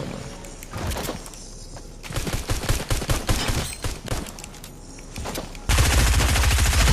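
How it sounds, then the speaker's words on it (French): Submachine gun fire in a Fortnite match comes as loud, rapid bursts of close shots in stuttering clusters, ending in a dense sustained volley, with no speech. "il a un pistolet mitrailleur"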